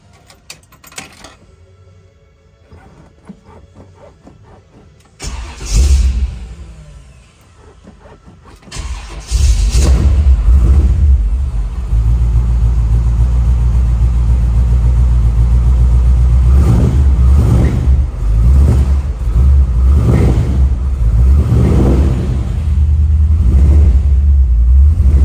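A 1957 Chevrolet Bel-Air V8 cranks over, catches and settles into a loud, deep, low-toned idle with several throttle blips and revs, heard up close with no talking.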